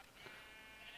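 Sheep bleating in the Minecraft video game, a short synthetic bleat with a brief rising call heard clearly over a steady background hum, without any talking.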